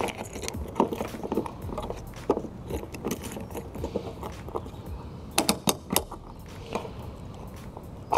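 Key turning in the locking fuel tank cap of a Volkswagen Beetle: keys jangle close by and several sharp metallic clicks come from the lock mechanism at irregular intervals.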